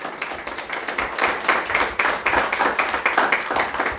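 A church congregation claps steadily together in a fast, even rhythm, close and lively, with no talking over it.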